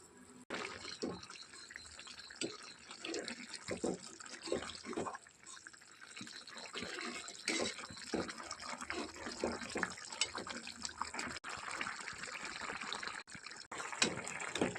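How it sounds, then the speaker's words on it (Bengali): Water runs and splashes into a pan of fried ridge gourd and potato pieces for a fish curry, a steady close trickling and bubbling wash with no talk. "এখন জল দিয়ে দেবো"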